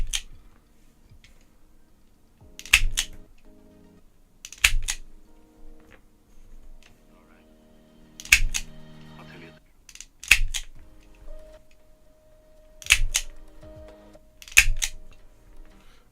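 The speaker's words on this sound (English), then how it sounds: "I wouldn't know what to do without an automatic wire stripper." Automatic wire stripper working thin electrical cable, giving a series of sharp snapping clicks in pairs, roughly seven distinct bursts spread evenly with quiet pauses and faint handling noise between.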